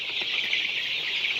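Chickens in a poultry shed, a steady wash of soft clucking and chirping fowl calls that runs without a break and sits at a moderate, fairly close level, with no voices.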